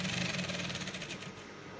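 A sewing machine stitching Ankara fabric for a top, a brief quiet run of rapid, even needle clatter, close and alone without talking.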